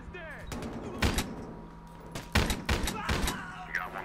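Gunfire in the video game Battlefield Hardline, with bursts of sharp shots landing in clusters at irregular moments between quieter stretches.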